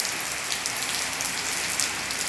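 Steady rain falls on surfaces during a tropical depression in Pranburi, Thailand, with a dense, even patter and hiss throughout and no one speaking.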